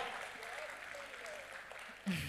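Audience at a Hindi poetry recital applauding: a soft, steady patter of clapping that sounds distant and faint, ending in a brief louder burst.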